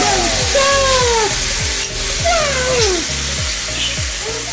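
Squid hits a pan of sizzling sweet-peppery sauce, giving a steady loud frying hiss with crackles and repeated scraping stir strokes, under background music.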